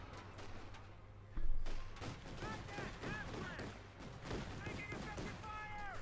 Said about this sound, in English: Panther falling back, machine gun covering fire.